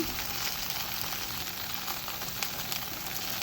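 A grilled cheese with Gruyere and a bacon blackberry shallot mix frying in a pan on low heat, a steady soft sizzle with faint crackles throughout.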